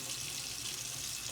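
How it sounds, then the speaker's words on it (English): A tap runs steadily, filling a baby bottle with really hot water, a brief, constant hiss of flowing water heard close up with no talking. "So I fill mine up with really,"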